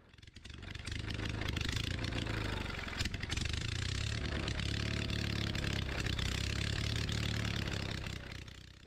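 Onan engine on a Bolens QT16 garden tractor running without a muffler; a loud, raw, rapidly pulsing exhaust bark that stays fairly steady with slight surges, then fades toward the end.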